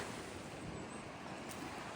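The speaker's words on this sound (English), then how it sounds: "Hopefully the wind isn't blowing directly in there." Wind gusting steadily across an open hiking trail, a faint, continuous broadband rush with no distinct breaks.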